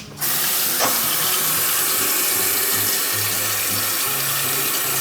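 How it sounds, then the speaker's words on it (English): Tap water pours steadily from a kitchen faucet during home baking, a continuous close hiss that starts abruptly and runs unbroken, with no talking. "Take the tap water from the tap."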